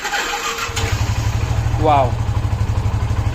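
A fast motorbike that had not been started for many days cranks and catches, then settles into a close, loud, steady throbbing idle. A voice exclaims briefly over the engine.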